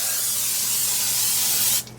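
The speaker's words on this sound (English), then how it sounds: "make sure we get that with the nonstick spray" Nonstick cooking spray hisses in one continuous burst into a 9 by 13 casserole dish, close and steady for nearly two seconds before cutting off.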